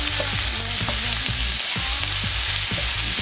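Ground meat sizzles loudly in a skillet with garlic and onions and is broken up with a utensil, which adds rhythmic scraping and tapping over the steady frying hiss.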